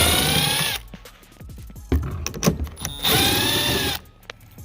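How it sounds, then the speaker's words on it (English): A power drill whirs in two loud bursts of about a second each, separated by clicks and handling clatter, close up, while removing 7mm fasteners from a 2015 GMC Canyon door panel. "I'm just going to grab my drill"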